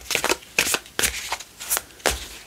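Playing cards are shuffled by hand in four or five quick riffling bursts, each a crisp close-up flutter with short pauses between, with no talking.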